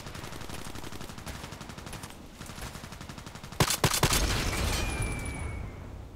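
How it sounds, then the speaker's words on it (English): Enemy gunfire in a first-person shooter, rapid repeated shots in steady bursts, then a louder cluster of cracks and a booming blast that fades into a rumbling tail. "Lucky me, he's shooting at me."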